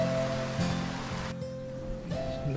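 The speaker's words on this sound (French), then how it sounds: "Il pleut pas mal là." Steady rain on Chiloé Island, Chile, hisses in a continuous wash of noise, with a few faint tonal hums threaded through it and no talking.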